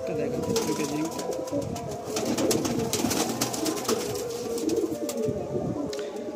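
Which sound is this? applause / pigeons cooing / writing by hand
pigeons cooing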